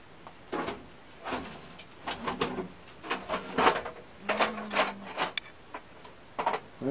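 A drawer in a workshop being opened and closed, with sharp wooden knocks, clicks and rattling tools in irregular bursts, close and fairly loud, no voices heard.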